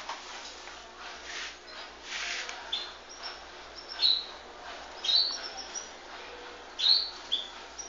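Small pet bird chirping indoors in brief, bright high calls, a few spaced chirps standing out over quiet room noise.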